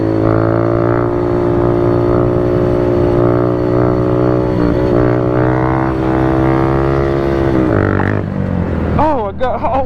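A Honda Grom motorcycle engine revs hard and holds high during a wheelie, a steady loud drone with a pitch dip near the end before it drops away.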